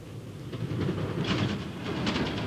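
A crowded, unheated train climbing through a winter Highland landscape, heard as a low, steady rumble with faint rhythmic clicking of wheels on rails, moderately quiet and continuous.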